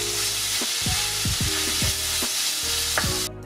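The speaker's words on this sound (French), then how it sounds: "on va faire griller les épices dans l'huile" Spices and tomato paste frying in oil for a vegan chili, a steady close sizzle broken by a handful of sweeping scrapes from a stirring utensil.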